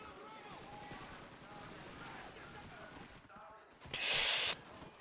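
Gunfire in the World War II shooter Call of Duty 2, a fast rattle of shots under battle noise with a speaking voice, ending in a burst of loud hissing near the end.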